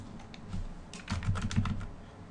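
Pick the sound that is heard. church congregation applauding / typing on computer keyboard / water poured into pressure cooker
typing on computer keyboard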